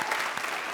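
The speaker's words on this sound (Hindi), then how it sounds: "तालियां।" Studio audience applause on a Hindi comedy sketch show, a short dense burst of clapping that fills the moment without any talk.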